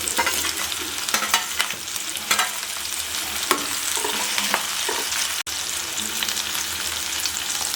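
Tomato goes into a pan of sautéing onion, green chillies, cinnamon, bay leaf, cardamom and cloves for a mutton liver fry, giving a steady close hiss of frying with scraping stirs and small crackling bursts, no voices.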